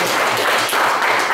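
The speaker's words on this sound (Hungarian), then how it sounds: "akkor egy nagy tapsot kérünk" Audience gives a big round of applause at a Hungarian stage show, dense continuous clapping filling the whole moment at close range.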